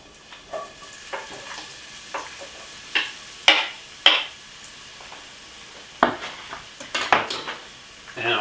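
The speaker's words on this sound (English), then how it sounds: "now that the coconut oil is heated up, I'm just going to slide in my onions first" Onions slide into hot coconut oil with a series of short, sharp sizzling bursts and clinks of a utensil against the pan, irregular and close, each burst quickly fading.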